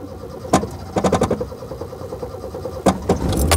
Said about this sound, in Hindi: अब मैं गाड़ी स्टार्ट कर रहा हूँ